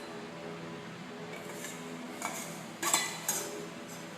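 Drumstick flowers are stirred in a cooking pan, with a few light metallic clinks and scrapes of a utensil against the pan over a quiet kitchen background.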